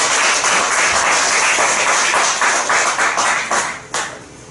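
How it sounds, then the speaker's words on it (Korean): A church congregation at a missionary fellowship meeting claps together, loud rhythmic hand claps that hold steady and then trail off with a few final scattered claps. "박수 한번 쳐드리겠습니다."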